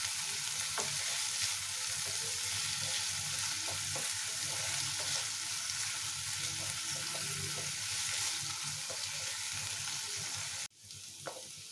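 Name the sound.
potatoes and onions frying in a pan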